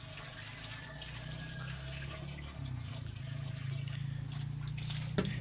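Water pours steadily into a bucket, a soft, continuous rushing splash that grows slightly fuller as it fills, heard alone at low volume.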